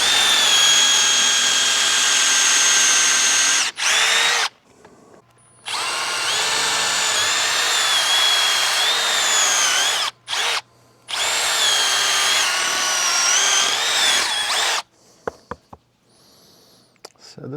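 A power drill bores out the broken wooden handle inside an axe head, whining loudly and steadily in long close runs broken by short pauses, and ending with a few knocks.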